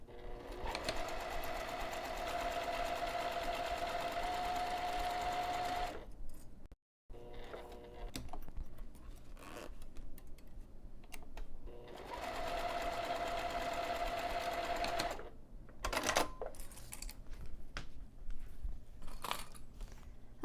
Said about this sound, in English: I'm going to take this over to the sewing machine, and I'm going to top stitch this lower edge